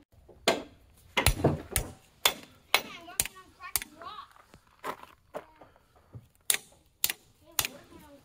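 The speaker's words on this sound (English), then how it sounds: "my thinking is I'm gonna hammer them down so they're flat so that they don't puncture the vapor barrier" Items being hammered flat in a crawlspace during vapor barrier installation, heard as sharp metallic strikes in an irregular rhythm, close and fairly loud, with a few quieter taps between them.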